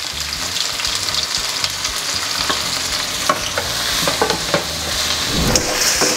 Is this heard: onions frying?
yes